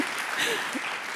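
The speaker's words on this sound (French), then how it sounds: "Et vous pouvez l'applaudir encore plus et encore plus" Brief audience applause at a lecture on consciousness and death, a dense wash of clapping over a short moment with a faint voice underneath.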